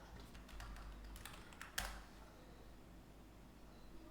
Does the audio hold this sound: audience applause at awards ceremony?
no